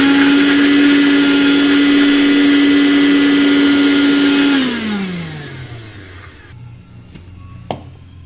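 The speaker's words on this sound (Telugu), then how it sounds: "ఇప్పుడు మనం ఈ మిరపకాయలని మిక్సీ పట్టుకోవాలి." A mixer grinder roughly grinds red chillies with a spoonful of salt, a loud steady motor whine running for several seconds before winding down and stopping, followed by a few faint clicks.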